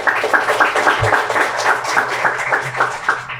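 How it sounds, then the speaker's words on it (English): At a school student-of-the-month recognition, an audience claps steadily for a few seconds. The rhythmic clapping is fairly close and sounds like a modest group rather than a large roaring crowd. "Give you a round of applause."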